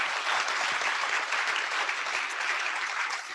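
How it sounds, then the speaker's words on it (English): Audience at a symposium plenary applauding its panelists, a steady, dense burst of clapping that stays full and even for several seconds without voices over it. "Let's give our panelists another round of applause."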